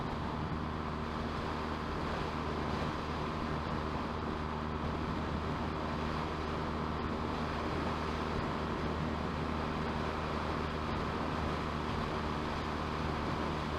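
A motorcycle rides along the road, giving a steady, unbroken rumble mixed with rushing wind noise that stays at the same level throughout, with no one talking.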